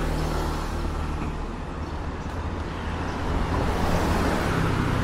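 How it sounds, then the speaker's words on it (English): Early-morning road traffic in Sanur, Bali, rolls past as a continuous rumble of cars and other vehicles, fairly loud and close, with engine drone swelling slightly toward the end. "In saying that, there's a fair bit of traffic"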